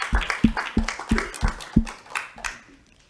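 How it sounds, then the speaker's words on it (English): A small audience clapping at an evening talk event, a brief round of sharp, distinct claps in a quick rhythm that thins out and fades within a few seconds, fairly close. "One more round of applause."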